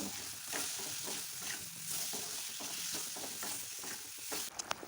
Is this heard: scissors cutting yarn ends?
no